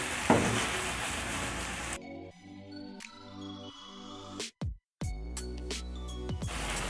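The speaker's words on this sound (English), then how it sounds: "you let this cook for around 1 to 2 minutes or until your tomatoes cook through. And also you keep stirring as they cook" Chopped tomatoes sizzle and fry in a hot pan as they are stirred, a bright crackling hiss heard alone for about two seconds before music takes over.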